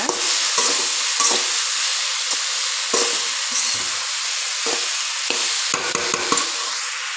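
A spatula scrapes and stirs okra stir-fry with a little tamarind in a hot pan, irregular scraping strokes over a steady sizzle, close and fairly loud, with no talk.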